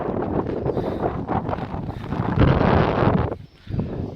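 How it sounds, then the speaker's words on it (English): Strong wind at sea buffets the microphone in a continuous loud roar, with gusts swelling and briefly dropping away near the end. "It's very windy because I'm out at sea"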